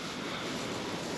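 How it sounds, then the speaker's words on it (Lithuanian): Strong wind gusting outdoors on a farm, a steady, loud broadband roar buffeting the microphone throughout with no voices. "Oras žiaurus, vėjas didžiulis pučia"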